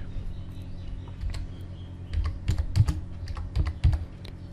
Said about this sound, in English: so let me type after each folder name just put space